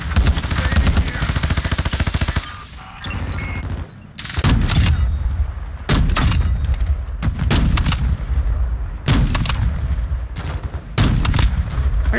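Loud automatic gunfire in the video game DMZ, with a long rapid burst, then repeated short volleys and single sharp shots close by. A voice is heard faintly.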